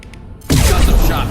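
After a brief quiet moment, heavy gunfire erupts in a Mass Effect 2 battle, becoming a loud, sustained roar of shots that continues through the rest of the clip.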